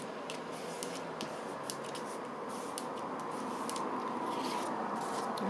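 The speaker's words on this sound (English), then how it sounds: "do Tina's trick of just cutting along the fold" Scissors cutting along the fold of a paper tag for a boho journal: soft, close crisp snips and rustling paper scrapes recur at an irregular pace over quiet room hiss.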